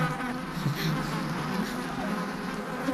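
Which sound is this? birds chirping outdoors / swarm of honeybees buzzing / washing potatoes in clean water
swarm of honeybees buzzing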